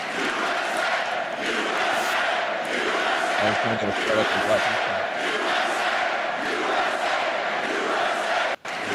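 A hockey arena crowd boos in a sustained, loud, dense roar during a USA vs Finland 4 Nations Tournament game, with a voice talking over it.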